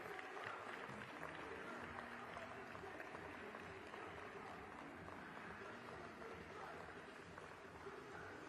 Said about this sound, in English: Would you please give me a round of applause here for Katina Smith